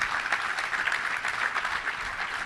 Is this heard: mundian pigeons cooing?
no